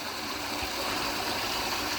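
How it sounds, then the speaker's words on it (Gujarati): Irrigation water pours and rushes steadily into a farm field growing cumin and wheat, a continuous broadband flow with no breaks, moderately loud and close. "તમે પાણી આવી ગયું છે મિત્રો"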